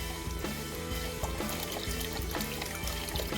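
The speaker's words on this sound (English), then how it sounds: "we're gonna dump this whole jug of beef broth in here" Beef broth pouring steadily from a jug into a pot, a continuous faint liquid splash and gurgle lasting a few seconds, with no voices.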